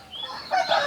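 Native country chickens at a poultry farm give a short burst of clucks and squawks, fairly close and brief, with no talk over them.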